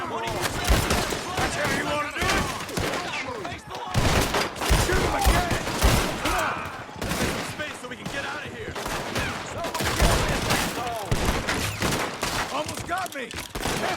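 Rapid gunfire in a video game train robbery, dense overlapping shots and volleys crackling nonstop at close range, with shouting voices mixed in among the bursts.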